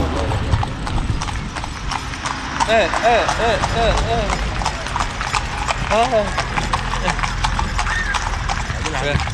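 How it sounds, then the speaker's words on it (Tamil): Horse-drawn carriage near Luxor and Karnak temples in Egypt, with steady rhythmic clip-clop of hooves on pavement close by, along with occasional whinny-like calls, under continuous talk and street background. "இங்கே பாருங்க, நம்மளுக்கு பின்னாடி ஒரு குதிரை வண்டி வருது."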